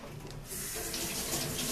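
A kitchen tap gushes steadily into a sink as corned beef is rinsed, the flow growing fuller and louder after a brief lighter start, with no talking.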